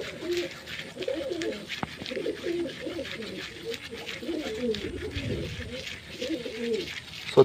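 Pigeons coo continuously close by in overlapping warbling phrases, steady and moderately loud over a faint hiss, with a single sharp tap near the start.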